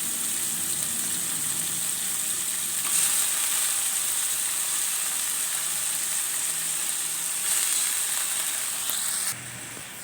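Chicken fries in a pan with tomatoes and onions, producing a loud, steady, bright sizzle close by that swells slightly a couple of times and drops abruptly near the end.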